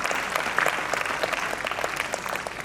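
Audience applause after a ballet performance in Jaipur, a steady dense patter of many hands clapping throughout, moderately loud and without talk.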